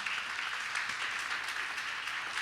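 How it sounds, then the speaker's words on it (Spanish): A church congregation applauds in a dense, continuous wash of clapping at moderate volume, sustained and even with no voices standing out. "Denle un fuerte aplauso al Señor."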